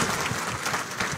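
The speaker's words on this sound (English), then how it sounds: "Clap for her." An audience applauds at a public speaking event, a short burst of dense, continuous clapping filling the moment.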